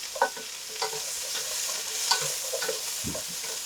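Tofu frying in a hot pan as two wooden paddles stir it, bringing a continuous sizzle broken by repeated knocks and scrapes of wood against the pan, close and fairly loud with no voices.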